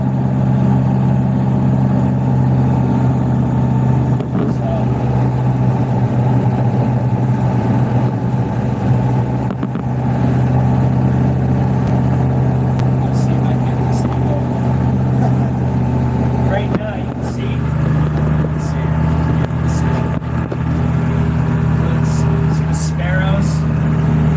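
A tractor engine runs at a Christmas tree farm with a gravel bank, holding a steady, close, loud droning rumble for the whole stretch, with a few faint high chirps near the end.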